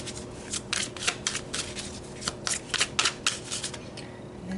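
Tarot cards being shuffled by hand, with quick papery riffles and taps in irregular bursts, close and fairly quiet with no talk.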